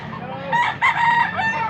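A white Kelso rooster, a gamefowl, crows close by in one long, strained call with a rising then held tone, clear and loud against a quiet yard background.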